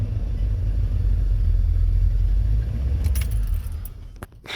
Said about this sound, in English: Right now the idle's surging. It's doing a lean roll.